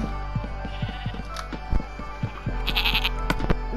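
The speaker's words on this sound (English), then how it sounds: "a goat just popped out of nowhere" Goat bleats in the Minecraft video game, several short nasal calls over a steady game backdrop with music, the loudest cluster near the end.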